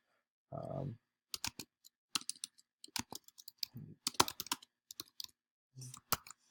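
Someone types a message on a computer keyboard, with irregular bursts of close, crisp key clicks separated by short pauses and a few soft thuds.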